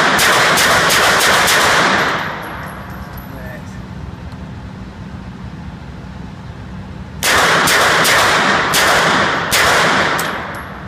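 An MP5 fired in semi-auto lets off rapid strings of loud sharp shots outdoors, one cluster at the start and another after a pause of several seconds, with people talking under the gunfire.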